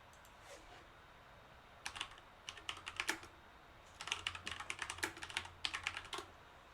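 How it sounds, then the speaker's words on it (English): Fast typing on a computer keyboard, quiet clicky keystrokes coming in quick bursts with short pauses, close by in a calm room without talk. "that's cool when people are impressed with your typing speed"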